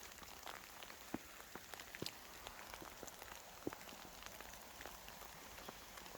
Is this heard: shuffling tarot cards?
no